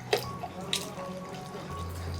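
Water poured from a quarter-cup measure into rice flour batter for ilayada, a short soft trickle with a couple of small splashy drips, faint and close, with no voices.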